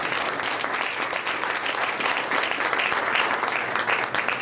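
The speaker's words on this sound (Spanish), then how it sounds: "Denle palmas al Señor." A church congregation claps their hands in praise during a Spanish-language sermon, a dense, steady, loud wash of applause lasting throughout with no break.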